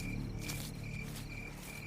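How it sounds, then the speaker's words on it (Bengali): Crickets chirp at night in a rural yard near a bamboo grove, a steady, dense pulsing trill that rises and falls in waves, moderately close, with no voices. "চারিদিকে ঝিঁঝি পোকার শব্দ"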